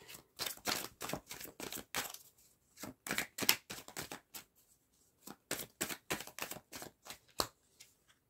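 Tarot cards handled on a table as one is laid over another, a steady run of soft, close, papery flicks and snaps with brief pauses and no talking.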